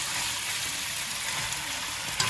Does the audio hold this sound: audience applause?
no